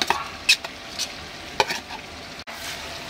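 Stirring finely chopped green chillies into hot oil for homemade Schezwan chutney, a soft continuous sizzle broken by a few sharp scraping strokes of the spoon, close and alone.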